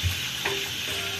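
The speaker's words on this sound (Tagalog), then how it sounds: "Magluluto kami ng pritong fish at Ano yung gulay mo, Parikoy?" Fish frying in a pan at home, giving a brief, close, steady crackling sizzle with no voices.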